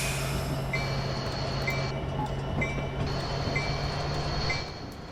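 A Metra SD70MACH locomotive rolls along in Train Simulator 2019, a steady low engine drone under rumbling wheels, with intermittent high squeals and tones sounding over the continuous train noise.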